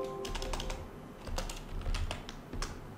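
Quick bursts of clacking keystrokes on a computer keyboard while a Python command is typed into a terminal, close and crisp in irregular clusters with brief gaps, and no talking.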